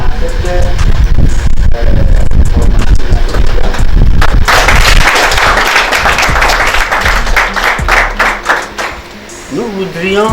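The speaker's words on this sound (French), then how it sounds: "Applaudissez là." Audience applause at an entrepreneurship training session, a loud dense wash of clapping that swells midway, mixed with voices and crowd noise, then tapers into scattered claps as a voice returns.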